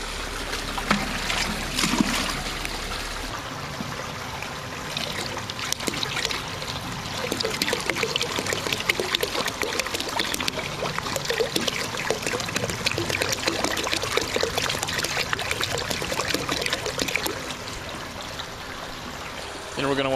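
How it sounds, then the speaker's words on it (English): Pool acid poured into a 5-gallon bucket of water for pre-dilution, giving a steady splashing, trickling pour that runs for most of the clip, close and fairly loud. "when you have to add large amounts of acid like this, it's best to pre-dilute it in a 5-gallon bucket first"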